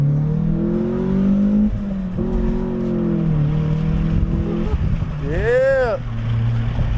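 SR20-engined Infiniti G20 with a manual gearbox pulls hard through the revs, a loud steady engine drone rising in pitch with a brief shift gap, then a sharp climbing whine near the end, with voices speaking over it.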